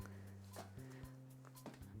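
A pet dog whimpers in short, nasal, whiny bursts indoors, fairly close, with a steady low hum underneath.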